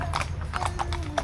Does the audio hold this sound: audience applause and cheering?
no